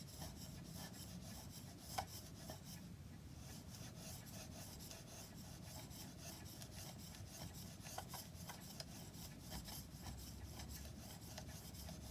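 A toothing plane iron is rubbed back and forth on a flat sharpening stone in quiet, steady, rhythmic gritty strokes that continue without pause, close up and alone.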